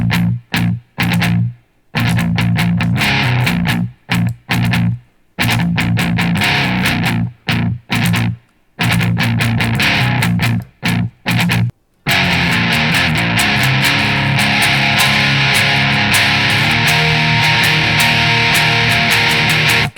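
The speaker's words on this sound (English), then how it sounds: "and then the bridge rhythm guitar sounds like this." Distorted electric guitar plays the bridge rhythm of a song, loud and alone, in choppy palm-muted bursts with short silences that give way to a sustained, dense chugging wall of sound in the second half.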